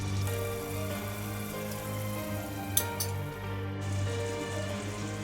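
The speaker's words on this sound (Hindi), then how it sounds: "अब इसके अंदर हम चिली गार्लिक सॉस डालेंगे।" Chicken sizzles and fries in a pan as chili garlic sauce is added, a steady crackling hiss with a couple of brief clinks, close and moderately loud.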